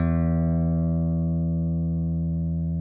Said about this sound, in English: An undistorted guitar will slowly fade as you hold a note